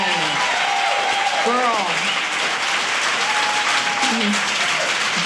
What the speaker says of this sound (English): Let's give a round of applause to Elaine.